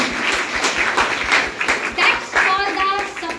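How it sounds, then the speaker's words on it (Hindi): A crowd at a business success meeting claps for the support team, a steady, dense round of applause that carries on through the whole stretch, with some voices mixed in. "एक बार यशवंत भैया और यहाँ की इंटायर टीम के लिए एक बार ताली बजा दीजिए"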